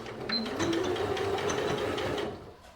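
A sewing machine topstitches a fabric bib, running in a steady, even mechanical whir for under three seconds before tapering off at the end.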